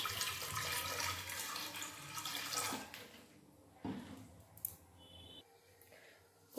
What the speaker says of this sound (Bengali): কুকারের মধ্যে দিয়ে দেবো জল।